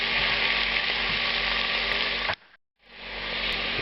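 Salted celery sizzles steadily in a hot pan, a loud, close frying hiss that cuts out abruptly and then swells back in.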